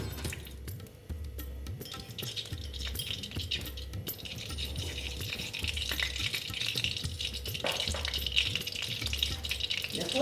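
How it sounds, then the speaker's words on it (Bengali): Oil goes into a heated kadai on the stove while cooking moong dal, producing a soft continuous sizzle with a low rhythmic bubbling underneath and a few light clinks, fairly quiet and without speech. "কড়াটা বসিয়ে দিলাম এবার কড়াতে আমি তেল দিয়ে দিচ্ছি"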